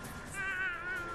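Several cats meow with high, wavering cries in the South Park: The Fractured But Whole video game, swelling in the middle and then trailing off over a steady game background.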